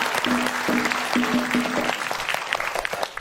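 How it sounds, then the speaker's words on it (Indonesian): A room of quiz show participants and audience clapping in a dense burst of applause that fades slightly toward the end. "Beri tepuk tangan, yuk. Kasih semangat dulu."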